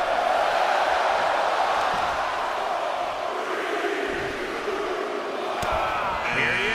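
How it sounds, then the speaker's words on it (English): Arena crowd chanting a count during a WWE 2K23 wrestling match, a loud sustained roar of many voices filling the scene with rhythmic swells. "Listen to this crowd count the next one in."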